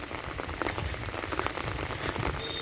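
Steady rain pours down during the monsoon in Dhobaura, Bangladesh, a dense, continuous patter on surfaces that stays even and fairly loud throughout, with no voices.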